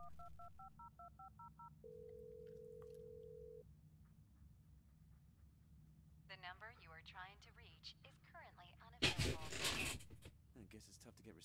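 In the video game Blair Witch, a phone dials the sheriff with a rapid run of touch-tone beeps and a steady tone, followed by faint electronic chatter and a brief burst of noise, with someone talking.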